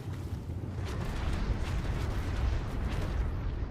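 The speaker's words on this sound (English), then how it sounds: "Hearing explosions" Explosions in the video game ARK make a continuous loud, rumbling roar with dense low-end booms and crackle, lasting throughout without any speech.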